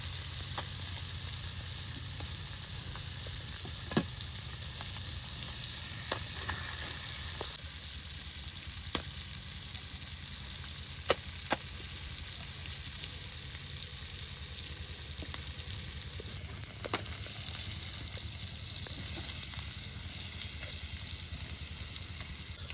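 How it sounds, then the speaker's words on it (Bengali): Hilsa and puti fish pieces fry in a pan of oil with a steady, even sizzle and occasional sharp pops, close and unbroken throughout. "কত সুন্দর করে ইলিশ মাছের টুকরা ভেজে নেওয়া হচ্ছে"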